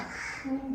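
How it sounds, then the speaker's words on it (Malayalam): A crow caws outdoors in a short, close call near the end of a brief moment, over faint background hiss with no talking. "നിങ്ങളാ ചിലയ്ക്കുന്ന കാക്കയുടെ ശബ്ദം ശ്രദ്ധിക്കണ്ട."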